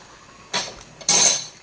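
A metal lid set onto a cooking pot on the stove while potatoes, beans and jackfruit seeds simmer, two quick clinks with a brief metallic ring, close and fairly loud.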